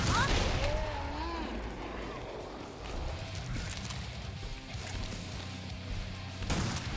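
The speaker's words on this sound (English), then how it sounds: "I just shot above his head a bunch." Gunfire from the Gunslinger class in Killing Floor 2 on Hell on Earth difficulty, dense bursts of shots and impacts under continuous game noise with a brief tonal sweep early on, loud and busy throughout.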